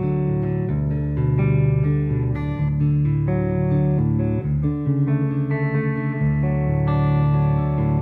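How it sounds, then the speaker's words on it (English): A Danelectro electric guitar in open D tuning rings out sustained chords and single notes through analog delay and reverb, the tones smeared into a lingering wash, played alone without speech. "I do have some analog delay and my Strymon Deco on."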